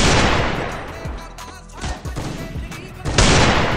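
AWM sniper rifle and other gunfire in a mobile battle game, a sharp burst of loud shots at the start, scattered reports through the middle and another heavy blast near the end.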